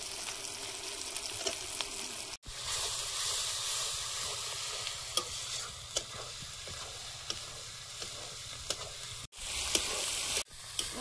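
Ground turmeric, Kashmiri chilli and cumin fry in oil for a chicken curry. A steady close sizzle is broken by light stirring scrapes, with a few abrupt cuts and no talk.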